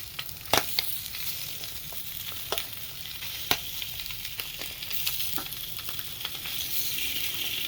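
Slices of Spam fry in a pan with a constant bright sizzle, broken by scattered sharp pops and crackles, close and alone without any talking.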